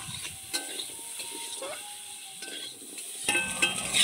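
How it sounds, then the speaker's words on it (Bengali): Small-cut potatoes fry in oil already used for prawns, a soft sizzle broken by repeated scraping and clicking from a stirring utensil against the pan. "আলুগুলোকে ভেজে নামিয়ে নিতে হবে।"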